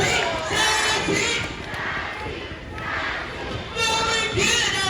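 Children in an audience at a bird show shout and cheer together for a bird named Sassy, a loud, surging crowd of young voices in rising waves.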